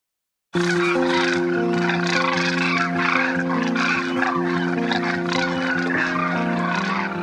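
A large flock of demoiselle cranes calls continuously in Jaisalmer, a dense chorus of overlapping croaking cries that starts suddenly and stays loud throughout.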